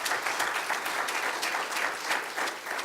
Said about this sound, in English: We get one more round of applause for Dean.